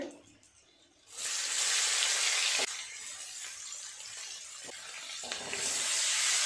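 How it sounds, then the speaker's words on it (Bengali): Chopped onion frying in hot oil with whole spices such as cinnamon, cloves and cardamom, cooking for a prawn and cauliflower curry; a quiet pan gives way to a loud, steady sizzle that dips briefly when stirred, then rises again. "খুব ভালো করে পেঁয়াজটাকেও ভেজে নেব"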